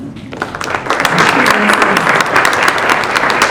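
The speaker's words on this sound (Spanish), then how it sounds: "pido un fuerte aplauso para ella" An audience at a panel discussion on media representation bursts into loud, sustained applause that fills the room, swelling after a brief opening moment and continuing steadily to the end.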